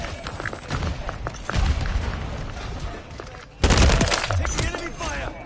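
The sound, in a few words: enemy gunfire in the video game Modern Warfare III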